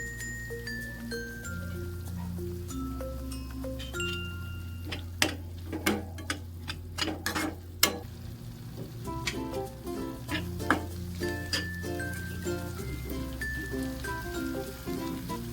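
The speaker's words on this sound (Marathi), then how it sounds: "एक मिनिट परतून घेऊयात आपण लसूण." Garlic fries and gets stirred in a pan for karela sabji, with a light sizzle under prominent background music and several sharp clicks and taps from the utensil against the pan.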